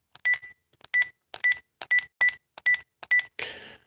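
Seven short telephone keypad tones in steady succession, each a clean two-part beep separated by brief silences, followed by a burst of noisy static-like sound at the end.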